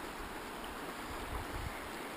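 Water of a creek by the Boise River runs in a steady, soft outdoor wash with a few slightly louder low surges, faint and continuous with no voices.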